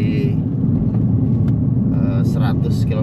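A Honda Civic sedan cruises along a road, its low engine and road rumble steady throughout while a person talks over it.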